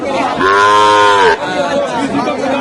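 A loud, drawn-out moo from a Sahiwal cow close by at a cattle market in Pabna, Bangladesh, followed by a busy crowd murmuring and chattering in the background.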